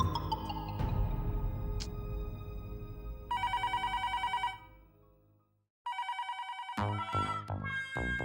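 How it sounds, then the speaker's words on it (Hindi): A telephone rings unanswered at home, with repeated bursts of electronic ringing separated by a silent gap, loud and close over a low background hum, with no talk. "मैं घर पे फोन लगा रहा हूँ, घंटी भी बज रही है, लेकिन बापूजी फोन नहीं उठा रहे।"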